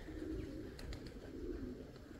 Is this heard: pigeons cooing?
yes